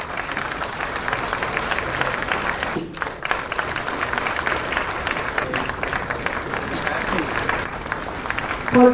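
Steady crowd applause at a government ceremony handing appointment letters to newly recruited teachers and officials, many hands clapping continuously while an announcer's voice speaks over it through a PA, with a brief dip midway.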